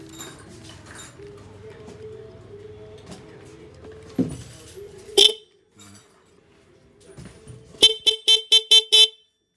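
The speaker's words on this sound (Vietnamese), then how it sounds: "Rồi em sẽ thử cho cô bác nghe thử tiếng còi của Im 125 nè." Horn of a Honda Dream 125 motorcycle, removed from the bike and held against a wall, blasting several times: a single loud blast mid-clip, then a rapid string of five or six short honks at the end, over faint clatter.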